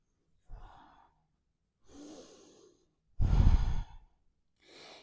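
Slow, audible breaths move through a yoga flow. A quiet inhale comes first, then a softer breath, then one long, forceful exhale close to the microphone and a final faint breath, each separated by silence.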